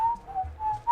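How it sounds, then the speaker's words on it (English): Soft sustained whistling tone in Animal Crossing background music, a single wavering note drifting slightly in pitch, gentle and alone. "The little, like the whistling sound, it sounds like a wind whistling through like Stonehenge or something"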